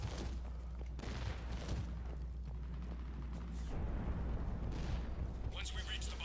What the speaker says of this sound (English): So all these explosions are just for practice.